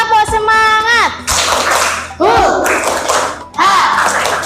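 A class of schoolchildren performs a rhythmic clap chant in unison, sharp group claps separated by shouted and sung children's voices in a call-and-response pattern.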